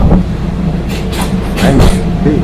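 A train rumbles at a large station in Thailand, a steady low roar with rail clatter and brief hissing bursts, close and loud throughout.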